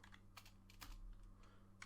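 Quiet, rapid clicking of a computer keyboard being typed on while setting up a Unity project, irregular close keystrokes with a faint hum underneath.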